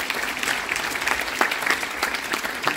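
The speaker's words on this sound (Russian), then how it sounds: "давайте сегодня аплодисменты не будут смолкать в нашем праздничном" Concert hall audience applauds at a Leningrad Oblast symphony orchestra performance in Nalchik, continuous warm clapping from a large crowd with scattered louder claps.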